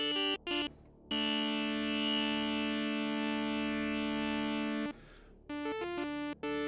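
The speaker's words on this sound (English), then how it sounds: "we've got the usual cutoff and resonance, you know, and you can hear there's kind of a bite to that resonance there" A synthesizer patch with low-pass filter cutoff and a biting resonance plays bright, buzzy sustained tones, a couple of short notes, one long held chord, then more short stabs, with no talking.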